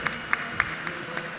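An audience at an eSports and metaverse gaming conference in the UAE claps in a brief, rhythmic burst of applause as a speaker is welcomed on stage.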